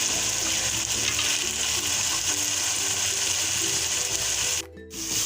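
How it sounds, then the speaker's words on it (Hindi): Chana dal tipped into a pan of cooked tomato masala for lauki chana dal, a steady loud sizzle throughout, with a short sharp burst of hissing near the end. "अब हम यहाँ पे चने की दाल ऐड करेंगे।"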